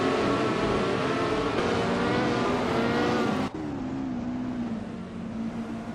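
Vintage race cars, including a 1968 Eagle Mark V, roar continuously at high revs in a close, loud engine drone whose pitch drops briefly mid-way before settling again.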